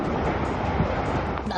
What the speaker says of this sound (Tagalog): pabugso-bugso pa rin ang hangin dito sa Oriental Mindoro